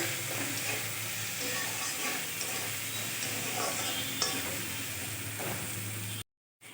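Lentil and water spinach mixture with turmeric, salt and a little sugar frying and being stirred in a pan, a steady close sizzle with scraping stirs throughout, ending in a brief silence.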